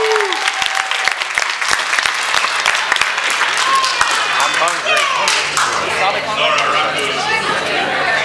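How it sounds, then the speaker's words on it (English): An opening-ceremony crowd at an anime convention claps loudly for its guests, a thick continuous patter with a few sharp claps and murmured chatter and voices mixed in. "I'd like to have a round of applause again for our guests"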